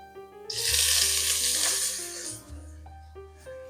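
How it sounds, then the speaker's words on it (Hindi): Ginger and vegetables hit hot oil in a pan with cumin and mustard seeds, bursting into a loud hiss that settles into a steady sizzle, with a low hum running underneath. "दोनों चीज़ों को हल्का सा फ्राई करेंगे। इसमें डालेंगे अदरक,"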